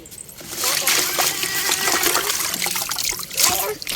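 Freshly harvested red radishes from a rooftop garden are rinsed in water, with steady close splashing, trickling and sloshing throughout and a voice faintly present underneath.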